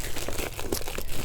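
Gift wrap packaging crinkles and crackles as it is opened, a dense, continuous rustle close by with no talking.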